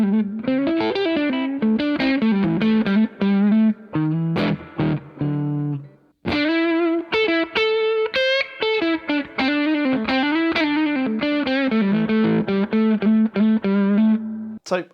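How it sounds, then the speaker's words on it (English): An overdriven Les Paul electric guitar plays a lively riff through a 5-watt Carr Trail Rider amp, thick distorted chords and sustained notes, with a brief pause midway. "I really wanted to pick up a Les Paul and see what would happen with a bit of gain"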